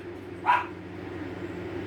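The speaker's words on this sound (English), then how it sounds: "My dog's gonna bark." A dog gives a single short bark at moderate distance, a brief burst over a steady low hum indoors, with no talking around it.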